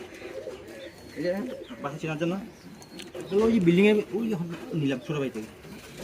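Pigeons coo at a pigeon market, their soft, repeated calls mixed in with people talking nearby throughout.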